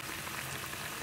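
Cauliflower pakoras deep-frying in hot oil give a steady, dense sizzle with fine bubbling crackle, close and even throughout, with no voices.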